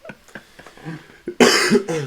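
A few soft murmured sounds, then a sudden harsh cough breaking out loudly, followed by a second rough cough burst.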